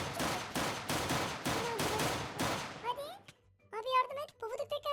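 Rapid bursts of gunfire in Minecraft ring out in a steady rhythm for nearly three seconds, loud and close, then give way to someone talking excitedly.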